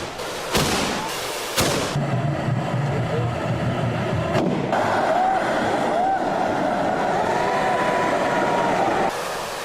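Two sharp, loud blasts of bursting gunpowder from a handheld tube firework, then a long roaring, crackling rush of burning powder that cuts off abruptly near the end.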